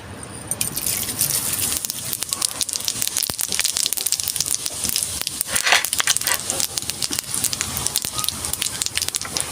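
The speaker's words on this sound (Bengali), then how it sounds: "কড়া গরম হয়ে গেছে, আমি সর্ষের তেল দেবো। দেবো আমি 5 ফোড়ন" Panch phoron spices crackle and sizzle loudly in hot mustard oil in a wok, a dense, steady frying hiss with sharp pops throughout, close up and without talk.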